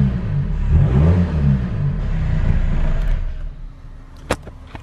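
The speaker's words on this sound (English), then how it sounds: "the car is finally idling by itself" A car engine with injector problems idles in a dark garage, a low uneven rumble that eases down after a slight surge, followed by a sharp click near the end.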